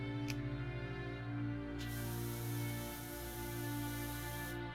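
Steady pressure washer spray from PowerWash Simulator, a continuous hiss with a constant motor drone underneath, loud and close, running unbroken with slight swells in intensity.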